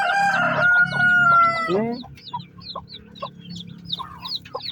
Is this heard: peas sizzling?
no